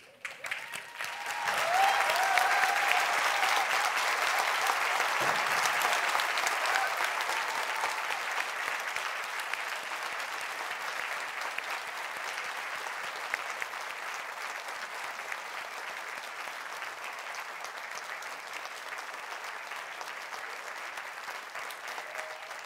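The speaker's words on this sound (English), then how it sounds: "I want to ask every graduate to stand and join me in a round of applause for everyone who helped" Graduates and guests at a University of Essex spring graduation ceremony applaud, a loud swell of many clapping hands that rises quickly, holds, then eases into a softer sustained patter.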